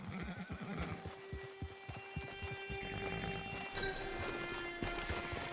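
Horse hooves clip-clop at a steady walking rhythm in Red Dead Redemption 2, close and fairly loud, with a whinny and a game soundtrack humming underneath.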